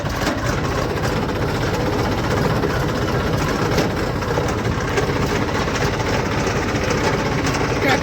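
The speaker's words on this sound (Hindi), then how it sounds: "तो आज चल रहे हैं अपना ट्रैक्टर लेके अपने कुआ पे।" A farm tractor engine runs steadily and close by, a continuous low rumbling drone with no breaks, on the way to a well.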